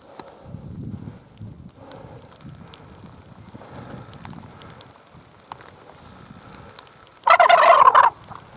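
A wild turkey gobbles once in the woods during spring hunting season, a loud, close, rattling burst near the end after a long stretch of quiet shuffling and faint forest sounds.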